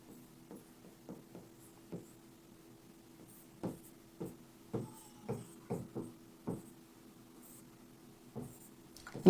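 A pen scratches across paper in a math lesson, a series of short, distinct strokes coming in irregular bursts against a steady low hum, close and fairly quiet with no speech.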